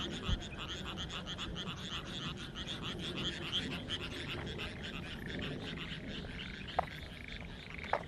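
Frogs croak in a dense, continuous chorus at night in a rural spot in Japan, with steady pulsing calls and a couple of sharp clicks near the end, with no talking.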